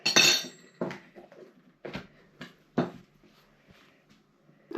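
Biscuit dough ingredients, including cinnamon and baking powder, being mixed in a bowl with cutlery, giving a run of separate clinks and scrapes of varying loudness close by, without speech.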